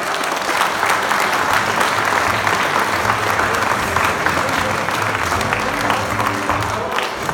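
An audience applauds at a 2018 chef-of-the-year award ceremony. The clapping is dense and continuous, with a steady roar throughout and some murmured voices beneath it.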